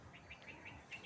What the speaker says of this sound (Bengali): পান বাগানের পাশে পাখিদের কিচিরমিচির শব্দ খুব সুন্দর শোনা যাচ্ছে